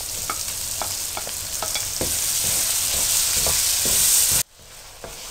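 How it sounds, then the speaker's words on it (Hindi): Tomatoes fry in spiced masala for a chicken curry, a loud close sizzle with repeated scraping stirs, cut off abruptly near the end and followed by a quieter hiss. "टमाटर डाल के मैं इसको भून रही हूँ।"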